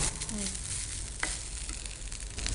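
Fresh grated coconut frying in a pan, a continuous close crackling sizzle with faint stirring scrapes throughout.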